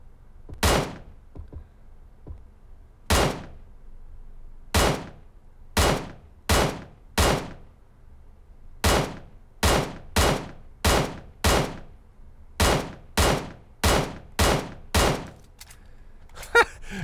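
Sharp QBU88 marksman rifle shots in PUBG Mobile, fired at a 400-meter target: about seventeen loud cracks, spaced widely at first, then coming in a quicker, steady run, each with a brief tail.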